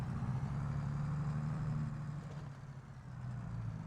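A newer farm tractor with analog gauges idles nearby, a steady, low, even rumble with a slight dip partway through and no voices.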